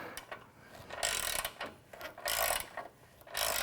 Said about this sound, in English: Swivel head ratchets are nice when you need them, but kind of a pain in the butt when you don't